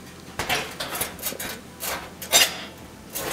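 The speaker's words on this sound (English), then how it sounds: "So I'm putting the bottom broiler pan back in." A metal bottom broiler pan sliding back into a GE oven, a series of scraping, clanking metallic rubs and knocks, close by and moderately loud, with one brighter clatter near the end.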